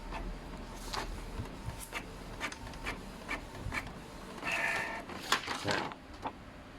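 Canon inkjet printer printing a test page, its print head shuttling with repeated clicking strokes, paper rustling and a brief whirring burst, close and steady at moderate volume.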